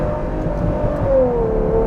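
A Ferrari 812 GTS with a naturally aspirated V12 holds a loud, steady engine note that climbs slightly in pitch, heard close with no talking.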